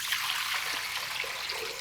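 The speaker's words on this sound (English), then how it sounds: "The first thing I'll do is put my water into the bowl." Cool water pours into a mixing bowl for bread dough, already holding flour and yeast, as a brief, close, continuous splashing stream with no talking.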